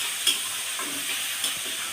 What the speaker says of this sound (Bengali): এবার আমি মশলাটা সুন্দর করে কষিয়ে নেব